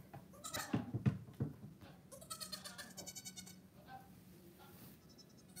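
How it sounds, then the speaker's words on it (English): Goats, including young kids, dressed in pajamas on a snowy night in Maine, bleating several times in short quavering calls from close by, quiet overall with soft background rustling. "With some goats in pajamas."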